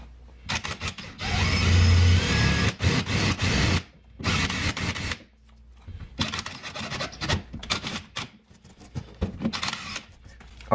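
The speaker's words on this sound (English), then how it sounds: "just drill that right out with a 5/16" A power drill with a 5/16 bit whirs in loud bursts, grinding out a metal rivet on a Ford Fiesta ST with rasping bites, stopping and restarting several times close by.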